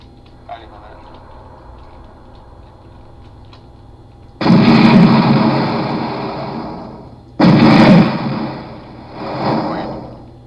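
Rocket launcher blasts and explosions in the game Muffin Kombat Rewritten come as two loud booming bursts a few seconds apart. Each one decays into a long rumble, and a smaller swell follows, after a quieter stretch with faint ticking.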